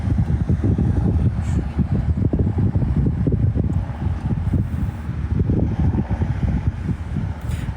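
Wind blows outdoors in a steady rumbling buffet across the microphone, gusting unevenly throughout at fairly loud level with no speech.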